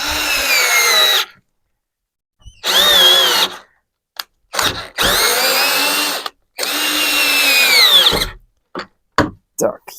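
A power drill drives a hexagonal bit into hard ash wood while building a folding wooden ladder, whining in several loud bursts separated by pauses and short clicks.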